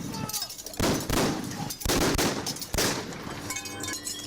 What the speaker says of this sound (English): Automatic gunfire that's coming back from the suspect.